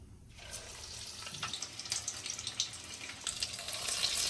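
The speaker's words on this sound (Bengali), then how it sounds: "আমোদি মাছগুলোকে এবার বেসনের ব্যাটারের মধ্যে ডুবিয়ে তেলে ছেড়ে দেব" Batter-dipped amudi fish pakoras frying in hot oil, a steady bubbling sizzle that swells louder toward the end, close and without talk.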